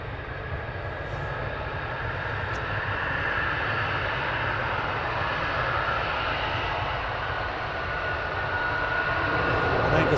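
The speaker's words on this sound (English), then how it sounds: "We have the F-35s getting ready for departure." F-35 fighter jets preparing for departure at RAF Lakenheath, a sustained low jet engine roar with a steady whine above it, heard from a distance and slowly building in loudness, with no speech.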